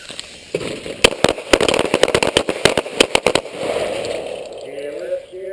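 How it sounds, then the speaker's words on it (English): Handgun shots on a firing range during a qualification course, many sharp cracks fired in quick irregular succession from several shooters, loud and close, followed by quieter range noise and a brief voice afterward. "Fire 4 rounds, center mass in 4 seconds."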